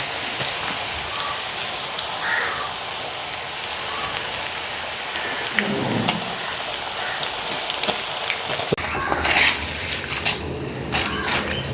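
Pieces of taro fry in hot oil, giving a steady, dense sizzling hiss throughout, with a brief low clunk midway and louder crackling bursts toward the end.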